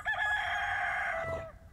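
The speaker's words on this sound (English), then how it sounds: "Oh, and there was a chicken noise too." A rooster crows in the farming video game Fish Pond Farm, one drawn-out, strained cock-a-doodle-doo, loud and close, that trails off near the end.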